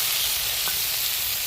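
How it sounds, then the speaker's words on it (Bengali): Onions and chopped tomato fry in a pan with a steady, close sizzle. One soft stir scrapes through at the midpoint, and nobody speaks. "পেঁয়াজে একটু লবণ দেবো, দিলে তাড়াতাড়ি পেঁয়াজটা ভাজা হয়ে যাবে"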